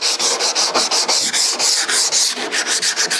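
Coarse sanding pad rubbed hard across a wooden furniture piece in quick, steady back-and-forth scuff-sanding strokes, about four per second, close and loud with no talking.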